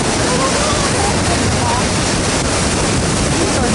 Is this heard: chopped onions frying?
no